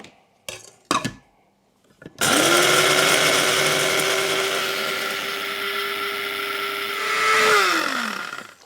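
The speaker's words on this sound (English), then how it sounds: "you can probably hear that the sound of the machine is a lot different, which means that the blades are a lot freer" A few clunks, then a blender motor roars into a steady high whirring grind on dried lemon that swells near the end and winds down in pitch.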